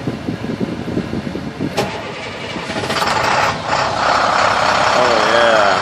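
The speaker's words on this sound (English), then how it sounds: "we're going to do a cold start, DT466 International" Cold start of an International DT466 diesel engine in a tow truck on a mild morning: cranking turns into a loud, steady rumble that builds and settles into a close idle, with a person talking over it at the start.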